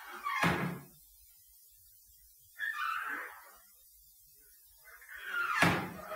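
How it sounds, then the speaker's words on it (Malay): Back door of an old house pulled and released at night: three separate knocking, rattling bursts with quiet gaps between, the first and last the loudest. "saya dengar macam bunyi pintu belakang rumah saya ni ditarik kemudian dilepaskan"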